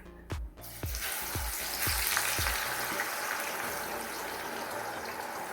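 Thin plantain slices drop one after another into hot oil with a quick series of soft plops, then a loud, steady crackling sizzle of frying fills the rest, close and continuous.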